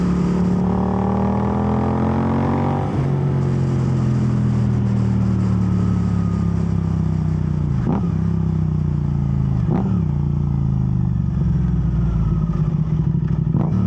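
Suzuki GSX-8R parallel twin motorcycle with a full titanium aero exhaust and an aftermarket tune, engine idling and revving steadily nearby, pitch rising and falling with sharp blips around the midpoint and later, with no talk.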